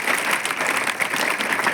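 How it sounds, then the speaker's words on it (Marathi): A school audience claps for its headmaster and teachers, a thick, continuous patter of many hands that stays loud and even throughout. "तुमच्या मुख्याध्यापकांसाठी आणि सरांसाठी टाळ्या वाजवा."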